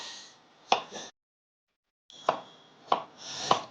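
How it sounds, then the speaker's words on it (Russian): A knife cuts potatoes for cabbage soup in a home kitchen, giving four separate sharp chops on a board with a short silent gap between them, and no talking. "я здесь взял 4 картошки, сейчас порежем и отправим туда в кастрюлю вариться"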